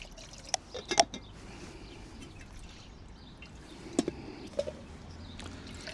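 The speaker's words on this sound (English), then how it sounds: "Put a little bit of cold water in it," Cold water is poured into a pot on a Firemaple Petrel camp stove, giving a few faint splashes and drips over a quiet background, with scattered clinks from the pot.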